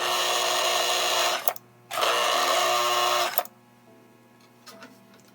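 An early-version American Flyer Semaphore Sam toy train accessory runs after repair, giving two loud, steady mechanical buzzing bursts of about 1.5 seconds each, each ending abruptly, followed by faint clicks.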